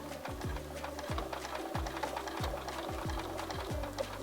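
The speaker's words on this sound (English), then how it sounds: "where I can make this fold here. So I'm going to carefully stitch" A sewing machine stitches along a quilt fold in a steady run of rhythmic mechanical thumps, close and even, with no talking.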